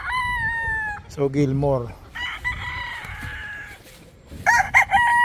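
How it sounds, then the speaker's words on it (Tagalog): Chickens and a rooster on a farm in Batangas, with loud nearby crowing repeated several times over steady clucking, and someone speaking briefly in between. "So ito yung mga manok na nandito pa lamang sa Batangas."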